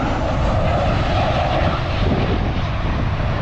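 A United Airlines passenger jet landing at an airport sends out a loud, steady, broad engine roar that stays close and constant throughout, with no other sounds standing out.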